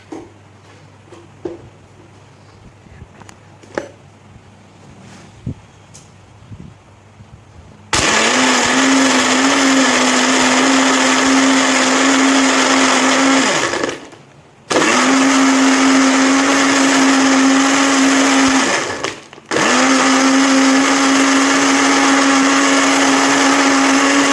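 Countertop blender whirring loudly through a mulberry detox drink in three long bursts separated by brief pauses, following a few quiet clicks and knocks as the lid goes on.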